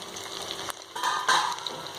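Cut potatoes are stirred into masala frying in a pan. The sizzle is soft and spattery, with a few scraping stirs.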